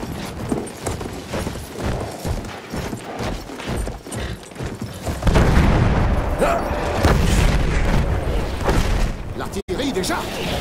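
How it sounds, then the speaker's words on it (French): Artillery shelling in the World War I shooter Battlefield 1, heavy booms and rumbling blasts building into a sustained loud barrage, with voices talking over the first half. "Un tir d'artillerie a été demandé pour couvrir le repli vers la plage."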